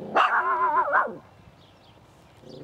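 A little dog lets out a burst of close, loud yapping barks on a countryside walk from Shiplake to Henley, followed by a quiet outdoor lull.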